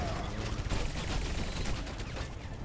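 Rapid gunfire in the video game Overwatch, a dense continuous burst of shots filling the whole moment at steady loudness.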